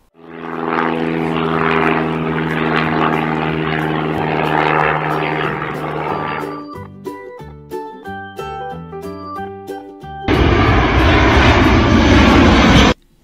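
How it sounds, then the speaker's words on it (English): Propeller airplane flying past, a sustained loud droning engine with layered harmonics, steady for several seconds before musical tones take over and a loud broadband burst closes out the final seconds. "Propeller plane."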